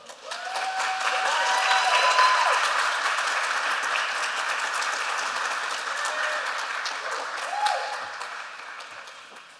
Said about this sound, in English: for your first opportunity to applaud, please join me in welcoming our 2 candidates